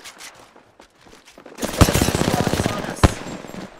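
Rapid automatic gunfire from Apex Legends breaks out after quiet game sounds, a steady close burst with a few sharper loud shots, and a voice talks briefly under it.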